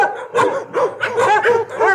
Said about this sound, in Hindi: 2 कुत्ते बाहर आए और उस शख्स को देखकर भौंकने लगे।